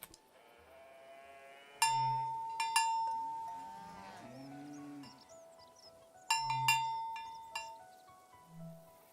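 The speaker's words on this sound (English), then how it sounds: "The sound of this bell has a lot of character." A cowbell in a video game clanks in two clusters of bright metallic strikes, with low cattle moos sounding in between.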